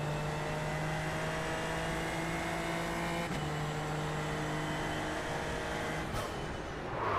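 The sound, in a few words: race car engine noise in iRacing video game, Super Formula Lights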